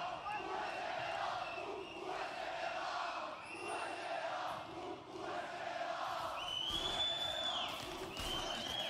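A crowd cheers and roars at an MSI 2023 League of Legends esports match between G2 and LLL, a sustained, faint arena swell rising and falling in waves.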